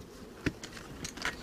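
Honey bees at a hive in the Tarn, being fed syrup during a hungry June, hum faintly and steadily, with a few brief, closer buzzes as single bees pass near.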